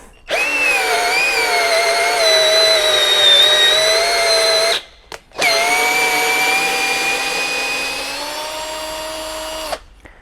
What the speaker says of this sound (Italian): vediamo un po' se riesce quantomeno ad iniziare l'avvitatura